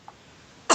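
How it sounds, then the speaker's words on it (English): A person with a cold gives a single short, harsh cough at the very end, close and loud, after a faint brief noise and near silence. "Sorry, I keep coughing."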